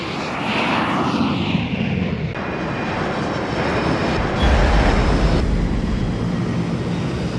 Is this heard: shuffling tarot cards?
no